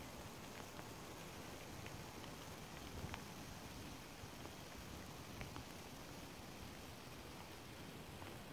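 Heavy rain pours steadily outdoors during a rainy walk, a dense, even hiss with no pauses and occasional faint drop ticks, no voices.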